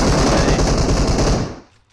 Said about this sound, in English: They heard all the gunshots.